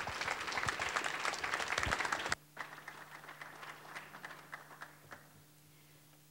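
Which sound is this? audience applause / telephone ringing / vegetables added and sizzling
audience applause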